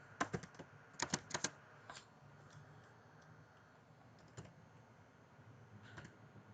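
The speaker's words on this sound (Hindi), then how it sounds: "ये अरबी कीबोर्ड है" Typing on an Arabic computer keyboard: quick bursts of sharp key clicks, then quieter scattered taps with short pauses, heard close against a faint steady background hiss.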